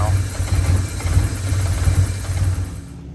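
A Porsche 944 engine idles roughly nearby with an uneven, pulsing rumble that rises and dips irregularly, while a voice is faintly heard at the start.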